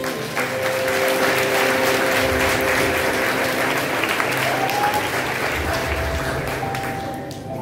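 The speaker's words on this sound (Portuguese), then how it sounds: "Você pode aplaudir?" Clapping from an audience during a church-style children's story presentation, a loud, continuous patter of many hands over a low sustained musical tone, easing off near the end.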